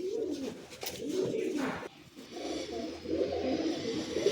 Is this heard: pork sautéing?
no